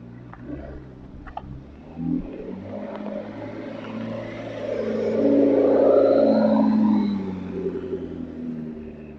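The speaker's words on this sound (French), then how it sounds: "Alors on a la McLaren qui s'en va." A McLaren pulls away at a dealership event, its engine rumbling and swelling to a louder rising pass midway before easing off, heard from nearby over background noise.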